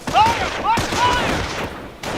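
Bursts of gunfire and quick shots from the Company of Heroes strategy game sound close and loud, mixed with game voices and battlefield noise before fading off.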